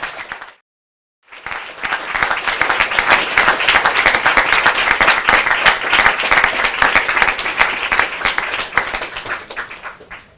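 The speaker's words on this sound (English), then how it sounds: "I want you to give them all a big round of applause" Loud, sustained applause from an audience at a Royal College of Surgeons diplomate ceremony, starting after a brief silence and filling the room steadily with dense clapping until it tapers at the end.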